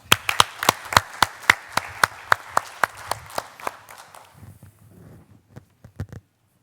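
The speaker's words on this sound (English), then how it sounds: "Give her a round of applause." Audience applause for a speaker at a science innovation event, a burst of loud, sharp individual claps that thins out after about four seconds into a few scattered late claps.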